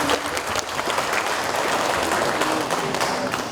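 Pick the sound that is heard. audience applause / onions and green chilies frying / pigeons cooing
audience applause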